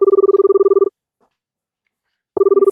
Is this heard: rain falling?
no